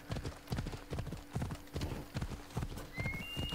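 Horse hooves clip-clopping at a steady walking rhythm in the video game Assassin's Creed Odyssey, clear and close with a short whinny-like tone near the end.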